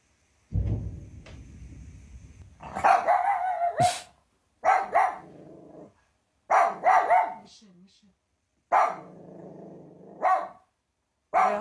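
A dog in Kharkiv barks and growls in several loud bursts separated by short pauses, close by, with some voice-like sounds mixed in.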